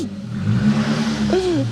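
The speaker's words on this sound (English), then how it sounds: "listen to the turbo" A turbocharged VW hot hatch engine revs close by, a steady mid-range drone that swells and then climbs in pitch toward the end with a rising whine, with no talk over it.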